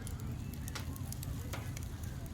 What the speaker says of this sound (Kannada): ಮೀನು ಫ್ರೈ ಆಗ್ತಾ ಇದೆ.